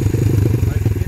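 A 140cc XL pit bike engine running close by, a loud, rapid, even pulsing putter with a clattery edge over a brief moment.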